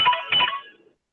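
A mobile phone ringtone sounds indoors in two quick bright tonal bursts, then dies away within about a second.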